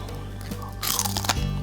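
Crispy oven-baked bacon crunches close to the mic, a burst of brittle crackling bites starting partway in over a low background hum.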